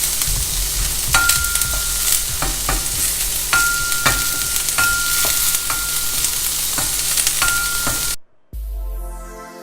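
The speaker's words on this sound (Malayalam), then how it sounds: "സവോള നന്നായി വഴറ്റിയെടുക്കാം." Onions sauté in a pan for Kerala-style scrambled egg, giving a steady loud sizzle and frying hiss. A spoon taps and scrapes against the pan repeatedly as they are stirred, close up, with no talk.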